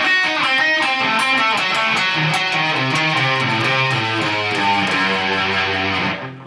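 A distorted electric guitar runs a fast diminished sequence lick, dense rapid notes streaming continuously for about six seconds, loud and up close with no voices.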